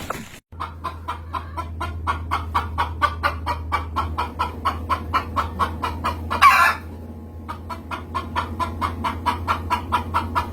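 Chickens cluck in a steady, close series of pulses over a low constant hum, with one brief louder burst midway and no talking.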